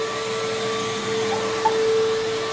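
A Bissell PowerForce vacuum cleaner runs steadily on household carpet, a constant close whine and hum with no change in pitch.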